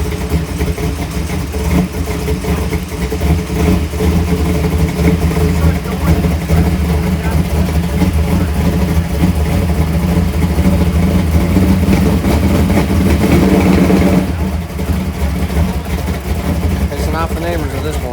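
Loud, close race car engine idling and revving in a shop garage, a dense steady roar with throttle swells throughout; voices talk over it.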